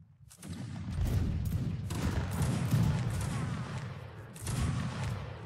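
A line of soldiers fires a musket volley in a multiplayer war game, heard as a sustained crackling fusillade of many overlapping distant shots, then a second burst a few seconds later.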